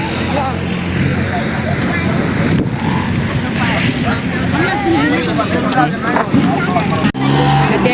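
A vehicle pulls away through a crowd at an outdoor song shoot, its engine rumbling loud and close amid dense chatter and shouting voices, ending with a brief break in the noise.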